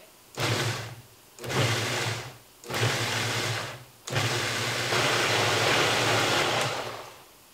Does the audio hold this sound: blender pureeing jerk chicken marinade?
yes